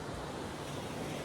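Ocean waves washing onto a beach, a constant broadband wash of surf mixed with wind noise, steady and unbroken, with no voices.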